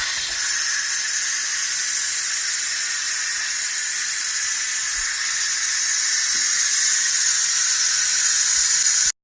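A pressure cooker that has just cooked beans releases its steam in one loud, continuous hiss that stays steady and close throughout with no talking.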